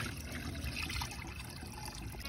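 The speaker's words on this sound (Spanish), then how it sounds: "Echamos el caldito, que es solamente la naranja" Orange juice broth poured over about 2.5 kilos of meat for Yucatecan cochinita pibil, a steady close trickle and splash of liquid running continuously without pause.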